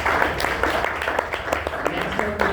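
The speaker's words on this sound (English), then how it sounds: "Huge round of applause for Data Pulse." An audience at a live tech pitch event claps for the Data Pulse team, scattered individual hand claps audible as a moderate, uneven patter with some background voices.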